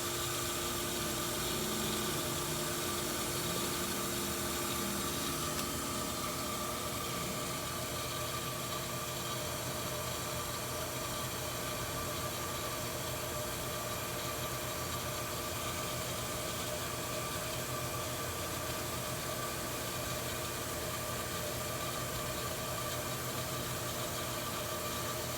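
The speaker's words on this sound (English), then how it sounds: "The pump should be coming up to pressure." Well water pump running steadily as it builds pressure, a continuous broadband mechanical hum with a faint tonal whine, fairly loud and unbroken throughout with no talk.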